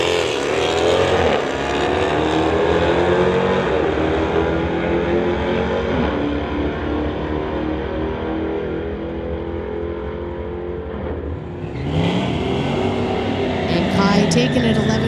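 A 2021 Dodge Durango Hellcat and a 1985 Regal with a 355 Chevy engine launch at a drag strip, a loud sustained engine roar close by, shifting pitch near the end as another burst of revving rises, with an announcer talking over it.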